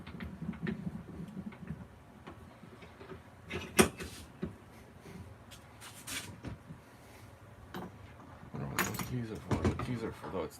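A bunch of keys jangles and clinks near a door, in short metallic rattles between soft handling knocks and shuffling, with a person talking over parts of it.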